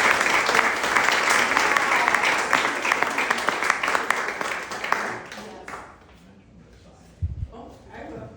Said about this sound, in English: I just want to give another big round of applause to Scott and Katie for this.